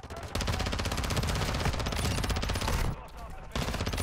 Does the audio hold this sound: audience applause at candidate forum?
no